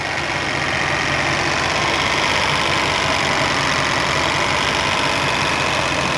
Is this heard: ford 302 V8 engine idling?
yes